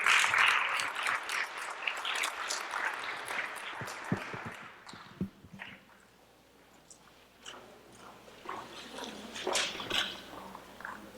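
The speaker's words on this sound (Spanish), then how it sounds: "Recibámosle con un fuerte aplauso" A conference audience in a hall claps to welcome a speaker before a talk on language in autistic children: dense applause at the start thins into scattered claps and fades, with rustling and faint voices in the room.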